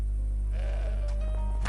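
A goat bleats in the Broken Sword 5 point-and-click adventure game, a single wavering cry rising over a steady low ambient hum and background music.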